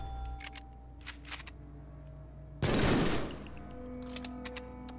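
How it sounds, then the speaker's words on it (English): A flashbang grenade detonating in the Deadpool video game, a sudden loud burst of noise that rings out for about half a second amid faint clicks and game effects. "See, that's the flashbang."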